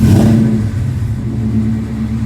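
Coyote-swapped Fox Body Mustang engine idling inside a garage, a loud, steady low rumble with an even mechanical throb and no revving, heard alone.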